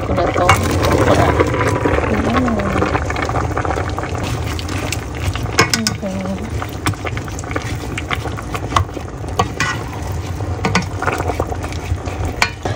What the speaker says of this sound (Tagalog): Laga lang natin ng konti hanggang lumambot yung okra.